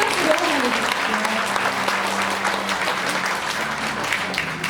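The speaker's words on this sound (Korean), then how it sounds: "여러분 박수로 한번 맞아주시죠" A crowd at a book launch applauds to welcome arriving guests, with dense, sustained clapping that fills the hall and carries voices murmuring underneath.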